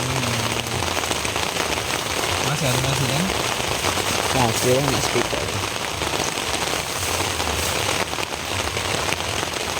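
Heavy rain falls at night on a riverside campsite, a dense, steady patter of drops on surfaces throughout, with people talking close by under it.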